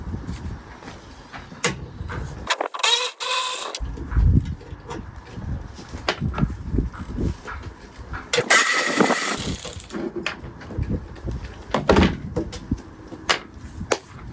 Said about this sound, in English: I'm using this Power Torque lithium ion powered ratchet from O'Reilly's.